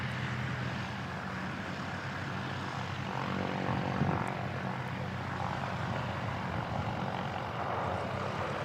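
Singapore Airlines Airbus jet at Christchurch Airport, a steady broadband engine roar that swells slightly midway and holds, heard from a distance without any talking.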